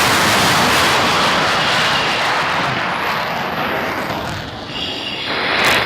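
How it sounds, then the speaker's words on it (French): A French strategic air forces jet climbs out after takeoff as its landing gear retracts, under a loud, steady, close engine roar that fills the whole stretch with no talking. "Le train en manœuvre."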